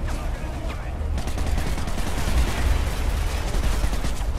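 Gunfire in the video game Call of Duty Modern Warfare 3, loud sustained bursts of rapid shots with heavy low booms throughout, a voice partly buried beneath.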